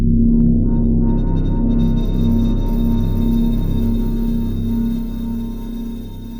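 Crow Hill Vaults Glass Beaker software instrument with its crystallizer effect turned up, a sustained glassy tonal drone with faint shimmering crystal-like grains above, steady and moderately loud, slowly fading toward the end.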